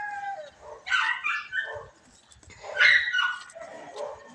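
Dogs barking at sunrise in a Philippine neighbourhood, two bursts of yips and barks in fairly close range with a brief whimpering quality, no talk.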